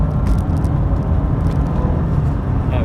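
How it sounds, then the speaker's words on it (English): Car accelerating on the road to pass a slower vehicle, a loud continuous low engine and road rumble heard from inside the cabin without any rise in pitch. "So just going to overtake this car because they're driving far too slow."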